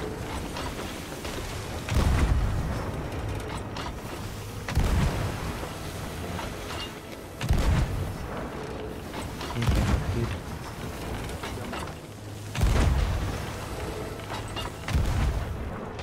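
Cannon blasts of chain shot in a pirate ship video game boom at regular intervals, roughly every two to three seconds, with creaking wooden ship mechanisms and ambient noise between shots.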